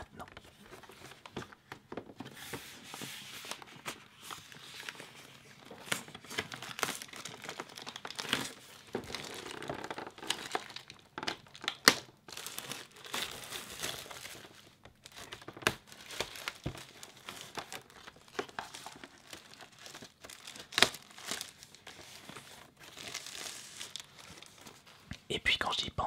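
Plastic and cardboard packaging of a Pokémon Mewtwo EX card box crinkles and rustles steadily at close range, with soft whispered French speech running beneath the handling.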